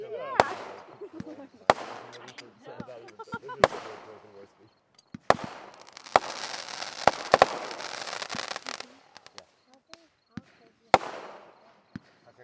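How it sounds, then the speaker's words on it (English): Fourth of July fireworks display in 2011, with sharp booms and loud bangs at irregular intervals, a stretch of dense crackling in the middle, and people talking throughout. "20 minutes of continuous fireworks."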